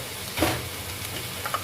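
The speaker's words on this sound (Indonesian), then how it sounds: "Kita tumis-tumis." Spinach being stir-fried in a pan with salt gives a steady close sizzle with soft scraping stirring strokes, with no voices.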